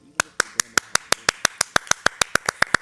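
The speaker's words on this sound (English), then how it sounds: "that's how the audience is going to be clapping" Steady hand clapping from a single pair of hands, about sixteen sharp, close claps at an even, brisk rhythm with nothing else around them.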